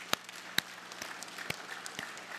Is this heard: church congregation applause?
yes